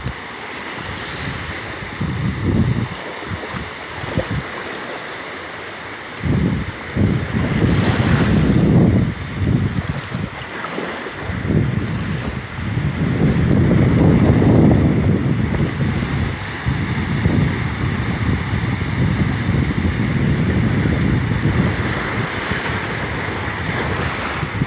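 Ocean waves break on a beach in loud, surging swells that rise and fall over several seconds, mixed with strong wind buffeting the microphone, with no voices.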